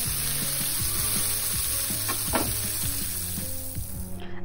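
Chicken pieces fry in a pan with a continuous crackling sizzle and a dense spatter of small pops, close and steady throughout.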